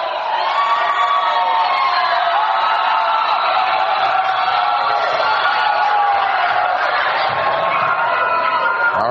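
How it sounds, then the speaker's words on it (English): A crowd at a high school basketball game cheers and shouts loudly and continuously late in the fourth quarter, a dense roar with no break. "Crowd's getting into this one."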